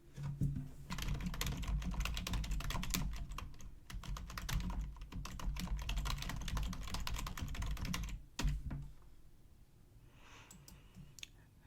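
Steady typing on a computer keyboard while adding an achievement bullet point to a resume, a continuous run of close, crisp key clicks for about eight seconds before tapering off into quieter scattered taps.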